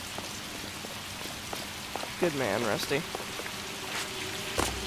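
Steady rain falls at night around an abandoned movie studio in the video game L.A. Noire, a constant hiss running throughout while a brief voice and a whistling tone come through over it.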